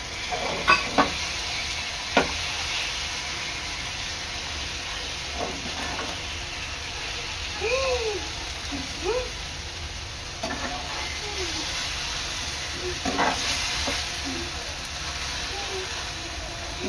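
Prawns for tandoori sizzle steadily in a pan, a continuous frying hiss with occasional stirring clinks and scrapes; faint background voices come and go.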